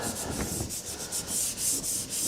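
Hand sanding across finished curly maple wood, a rhythmic run of close back-and-forth rasping strokes, about a dozen even passes, with no voices.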